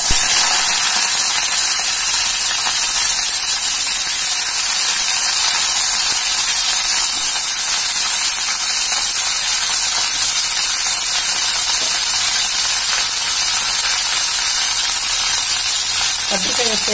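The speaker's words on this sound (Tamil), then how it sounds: "கடுகு நல்லா பொரிஞ்சிடுச்சு இப்போ நம்ம கட் பண்ணி வச்சிருக்கிற கத்திரிக்காயை இப்போ இதல சேர்த்துக்கலாம்" Cut eggplant is added to a hot pan of popped mustard seeds and sizzles loudly and steadily throughout, with an even frying hiss and no pauses.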